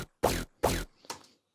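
Synthesized deathstep bass from electronic music production, in its unmixed state: two loud, heavy bass hits in quick succession, then a third, quieter and thinner hit, with silence between them and no voices.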